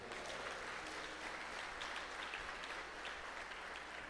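A church congregation applauds in a steady, dense wash of clapping that holds at an even level throughout, with no pauses and no voices standing out.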